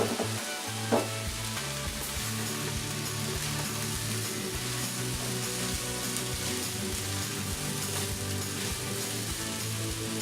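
Tofu crumbles hitting a hot pan with rice for homemade fried rice, a dense steady sizzle and crackle of frying that holds at an even level throughout with no talk.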